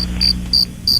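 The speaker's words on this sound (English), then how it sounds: "I don't know how to turn them off, so we'll just let the crickets ride out." A button-triggered cricket chirp sound effect plays three evenly spaced, shrill, close chirps over a low steady hum.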